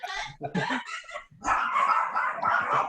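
Several dogs bark in quick, excited bursts, followed by a steady stretch of squawking parrot calls, close and fairly loud.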